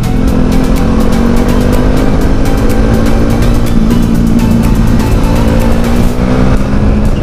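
A Kawasaki Versys motorcycle engine drones loud and close with a steady, throbbing tone and rushing wind. The engine holds fairly even through the whole stretch while the rider works the gears.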